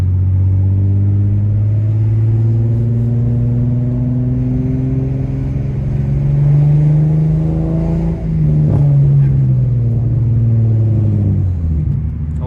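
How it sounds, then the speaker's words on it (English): An Infiniti G37s coupe with a Z1 muffler drives with a deep, steady exhaust drone that rises as it accelerates, close and loud, with a faint whistle, then dips briefly before building again. "besides that, it's a good sounding exhaust"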